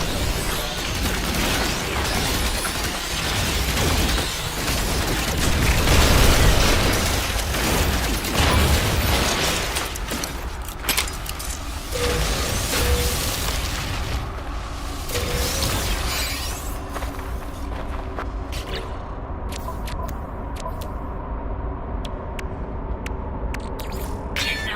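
Weapon fire from the game No Man's Sky: dense, loud mechanical bursts and crackling blasts that run nearly continuously for the first stretch, then thin into scattered sharp pops over a steadier hum.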